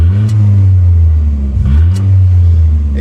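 A car engine with a straight-pipe exhaust, no muffler or dispersion plug, rumbles loudly and deeply up close, idling with a couple of brief revs, its exhaust note low and throaty.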